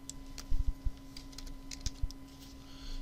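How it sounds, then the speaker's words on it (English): Light clicking of keys on a computer keyboard, a short irregular run of soft taps close by over a steady electrical hum, with no talking. "in here, we're just going to type first name"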